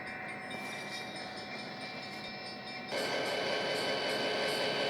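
Freight train B99-644 with split locomotive power and four auto rack cars rolling past in a steady, continuous rumble and rattle that grows louder and closer midway through.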